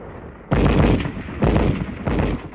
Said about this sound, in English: Our machine gun covers the advance.